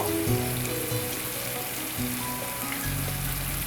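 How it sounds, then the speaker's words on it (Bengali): Shrimp and courgette fry over high heat in a pan, giving a steady, close, dense sizzle that runs unbroken throughout. "এটাকে চুলায় হাই হিটে ভাজি করব"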